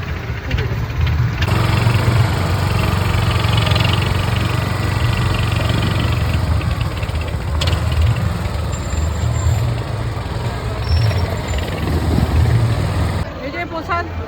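A boat engine chugs steadily on a river on the way to Omkareshwar temple, a constant mid-pitched drone with broadband water and wind noise around it.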